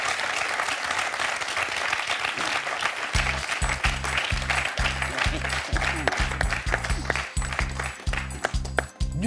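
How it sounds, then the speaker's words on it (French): Studio audience applause on a French TV quiz show, a sustained burst of dense clapping rising after a few seconds with a rhythmic pulsing beat beneath it. "Deux points pour Yveline qu'on peut applaudir."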